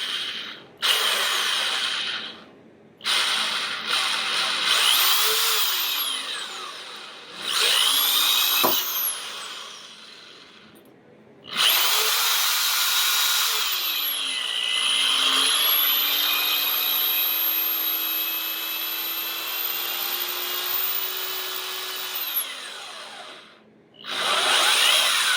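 A power drill with a cobalt bit bores slowly through the metal of an old Digital DEC PC case, its whine rising and falling in several loud bursts with short pauses between, and long steady runs of grinding screech.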